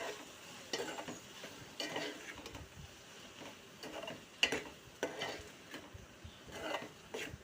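A spoon scrapes repeatedly through a pan as chili powder and salt are mixed into an Andhra-style drumstick and meal maker curry, with irregular close scrapes over a low simmering sizzle and no talking.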